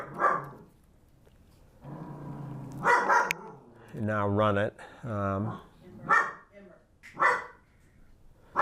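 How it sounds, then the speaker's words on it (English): Dog barking indoors during a lecture: a few loud, close barks in the middle, with someone speaking before and after them. "You guys aren't used to hearing a dog barking in the background"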